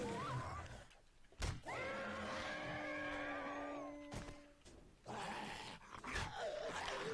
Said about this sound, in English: Who brought their dog to work?